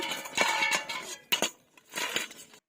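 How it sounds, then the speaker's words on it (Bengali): Lid lifted off a cooking pot while making a crispy egg snack, giving several short metallic clinks and clatters close by, with a quiet gap between bursts. "ঢাকাটা তুলে নেব"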